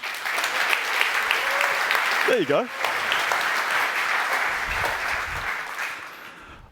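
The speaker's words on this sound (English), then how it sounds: "Let's give them a round of applause." Conference audience applauding after a talk, steady clapping throughout that fades toward the end, with someone speaking briefly over it.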